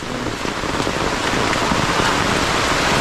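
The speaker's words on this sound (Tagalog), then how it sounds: "Ay grabe, naglakas na yung ulan masyado." Heavy rain pours down in a dense, steady roar, loud and close, unbroken throughout with no voices.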